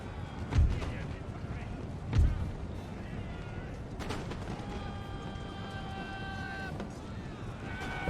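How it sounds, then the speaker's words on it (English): Cannon artillery in the video game Empire: Total War, in a Prussia campaign battle, lands two deep booming shots a couple of seconds apart over a continuous din of battlefield noise. "my cannon crew is absolutely slaughtering them there"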